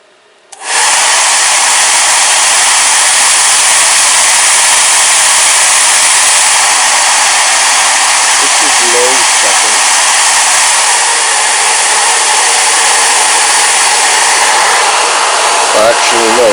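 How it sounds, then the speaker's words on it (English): A hair dryer powered through a variac at about 224 volts switches on and runs with a loud, steady airy whine, holding constant for many seconds with only faint brief sounds near the end. "Alright, now let's switch on the hair dryer."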